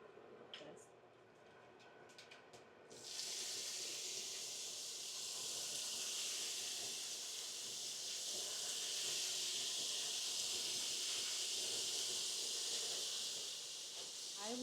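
Herbed beef patties start frying in a pan, a steady bright sizzle rising suddenly after a few faint clicks and holding on, with soft speech underneath.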